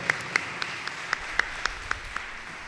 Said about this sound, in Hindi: स्पेशल इनके लिए भरपूर ताली होनी चाहिए।